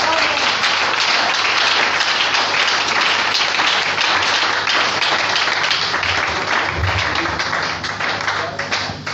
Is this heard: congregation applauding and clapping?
yes